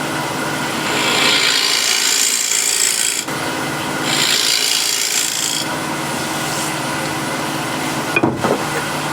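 A woodturning tool scrapes against the wooden foot of a turned piece spinning on a lathe, removing a scribe line in repeated rasping passes with short pauses between them.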